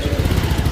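Royal Enfield Meteor 650 motorcycle engine running near, a low pulsing throb with quick regular beats over a short stretch, heading out on a Shimla ride.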